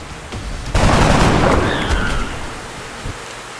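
Squad rifle fire in XCOM: Enemy Within bursts out in a loud, sustained volley of overlapping shots, then tapers into scattered reports and a final faint crack.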